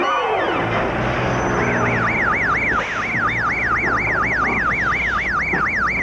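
Police patrol car siren wailing loudly and continuously, a rising-and-falling electronic tone cycling rapidly over engine and street noise.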